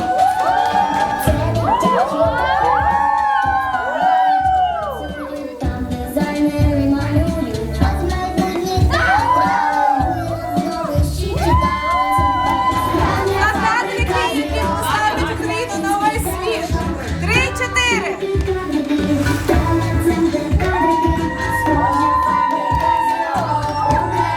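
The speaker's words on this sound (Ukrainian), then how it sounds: "ваші оплески" Crowd at a talent festival cheering, shouting and clapping throughout, with children's voices and whoops over a steady roar and a voice speaking over it.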